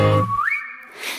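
A short whistled phrase in a song, one clear tone that holds steady and then slides upward to a higher sustained note, loud and up front over faint backing.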